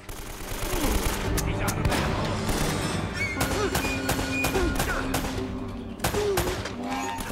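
Dense bursts of gunfire from the PS4 remaster of the action game Uncharted: Drake's Fortune, with rapid overlapping shots and rattling automatic fire continuing throughout and a sharp impact late on.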